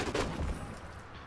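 A brief burst of gunfire in the video game Allmighty Kill Your Gods, a few quick rattling shots at moderate volume that fade within about a second.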